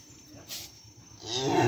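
Cattle at a cattle market give a short, close, rising moo that swells toward the end over a faint background; no talking.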